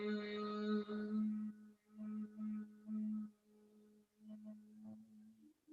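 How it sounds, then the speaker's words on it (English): Humming bee breath during a yoga session, a steady low buzzing hum exhaled from the throat in several separate pulses with short pauses between them, quiet and close. "making the buzzing bee sound at the back of our throat"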